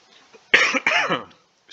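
A person coughs twice in quick succession, close and fairly loud, after a quiet moment.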